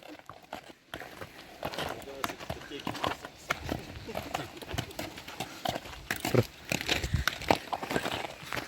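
Horse hooves, including a mare's, clip-clop in uneven steps on hard ground, fairly close, mixed with outdoor village noise and occasional voices in the background.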